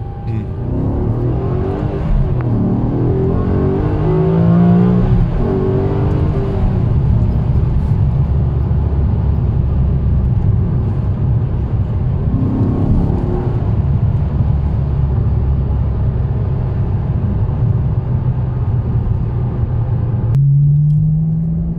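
A Maserati GranSport engine revs and accelerates loudly, rising through the gears with a deep rumbling roar, easing off and picking up again.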